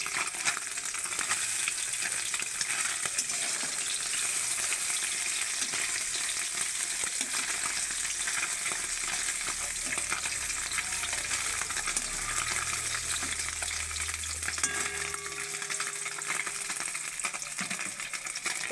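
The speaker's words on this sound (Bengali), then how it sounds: "এইভাবে সব মাছগুলো ভেজে নেব।" Morola fish fry in oil with a dense, even crackle that stays loud and constant from start to finish. Faint low rumbles sit underneath, and no one speaks.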